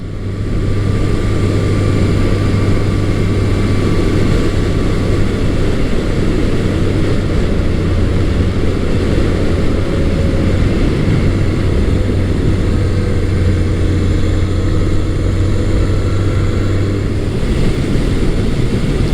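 A Honda CB750 Nighthawk motorcycle on the move, its engine a steady, loud drone with a low hum and wind rush that hold nearly unchanged throughout, with no voices.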